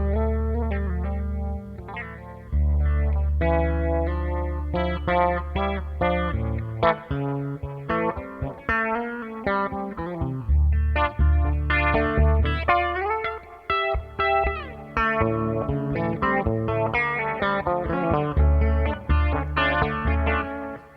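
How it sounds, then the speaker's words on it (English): Electric guitar tuned down to drop D and played through effects, with chorus, distortion and echo, heavy low riffs with rhythmic stops and bursts of chords, loud and close with no talking. "I'm going to take this guitar sound"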